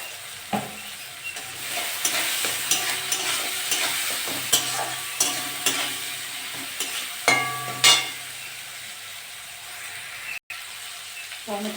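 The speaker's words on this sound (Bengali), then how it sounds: "টমেটো পেঁয়াজ সব ভালোভাবে ভাজা হয়ে গেছে।" Tomato and onion, seasoned with turmeric and salt, sizzle and fry in a pan, stirred with repeated sharp scraping strokes at an uneven rhythm, close and fairly loud, alone throughout.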